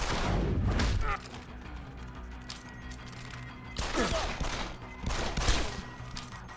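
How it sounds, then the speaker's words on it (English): Gunfire in a firefight in Deus Ex: Human Revolution, with heavy bursts of shots opening the clip, then a quieter stretch before two more loud volleys crack out near the end amid game ambience. "Gunshot!"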